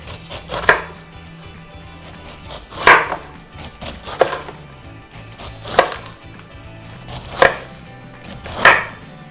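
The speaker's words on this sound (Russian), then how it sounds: "Также срезаем кожуру." A knife thuds against a wooden board six times at uneven intervals as pineapple peel is cut away, crisp and close, with quiet scraping between cuts.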